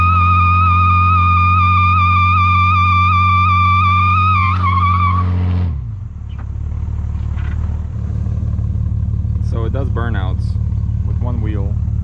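A cheap 4x4 car's engine idles loudly and revs, then drops as the tires break loose into a burnout with only one wheel spinning, with sharp squealing skids rising over the steady engine drone.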